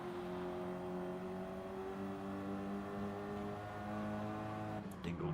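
Ford Focus Cup race cars lapping Brands Hatch: a steady, droning engine note holds at moderate distance, with a brief clattering burst near the end.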